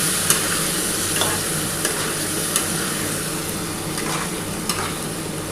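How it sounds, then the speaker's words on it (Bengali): Spice paste for a light rohu fish curry with summer vegetables, cooked down in a pan with a splash of spice water. It gives an even, close sizzle with occasional soft spatula scrapes and no talking. "একটু ভালো করে কষিয়ে নিই"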